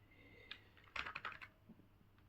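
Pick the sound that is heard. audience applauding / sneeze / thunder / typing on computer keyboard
typing on computer keyboard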